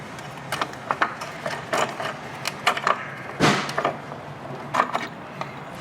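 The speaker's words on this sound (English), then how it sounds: "And then we can remove this hold down bracket here using a 13mm socket." A 13mm socket and ratchet loosening the battery hold-down bracket on a 2000-2007 Ford Focus, giving close, irregular metallic clicks and clatter in short bursts, with small knocks between, and no talking.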